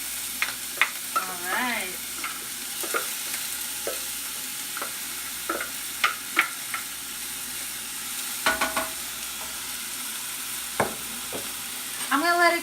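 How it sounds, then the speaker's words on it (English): Finely chopped onion sizzles in olive oil in a small pot, with a steady close frying hiss and scattered clicks of stirring; a voice speaks briefly. "we're gonna take our onion that's been finely chopped, and we're gonna put it in here"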